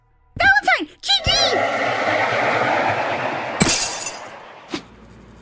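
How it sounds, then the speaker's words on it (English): Glass splintering and shattering as a sound effect, sharp breaking bursts with a lingering glassy crackle, then a second crash near the end, loud and close. "There's a sound like splintering glass."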